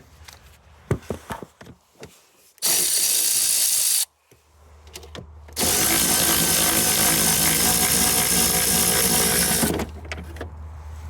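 A power drill backs screws out of the air box cover on a 1989 Ford Bronco: a few light clicks and taps, then two loud whirring bursts, one short and one long, close by with no talking.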